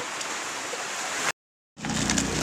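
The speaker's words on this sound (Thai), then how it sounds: "ฝนมันตกนะ" Rain pours down steadily in a continuous dense hiss, broken by a brief gap of silence before the downpour resumes just as heavy.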